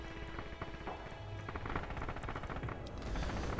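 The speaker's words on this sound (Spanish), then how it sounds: "A mí me da la impresión de escuchar disparos por esta zona." Gunfire in the video game Red Orchestra 2 crackles in rapid bursts and scattered single shots, dense and fairly loud, with rumbling low booms mixed throughout.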